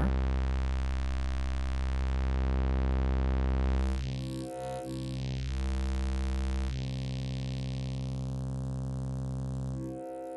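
Low-frequency synth tone run through a CM22x distortion module in Voltage Modular, a steady loud buzzing drone whose harmonic character shifts midway, dropping briefly and returning before cutting off near the end, with no talk.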